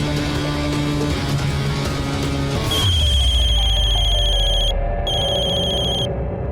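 A telephone rings loudly and close by in a repeating electronic ringtone pattern over background music. The ringing cuts off briefly and then resumes, and no one speaks.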